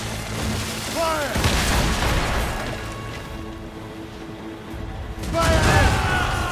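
Ship cannons fire a broadside in the naval battle game Assassin's Creed Rogue, with heavy overlapping booms at the start and a renewed burst near the end over a steady rumble of sea and ship ambience; a voice shouts commands.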